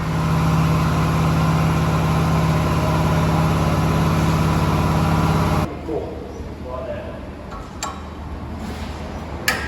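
Mk1 Ford Fiesta 1.1L engine fitted with a new fuel filter system, running loud and close with a steady idle before cutting off abruptly, leaving quieter ambient noise and a few small clicks.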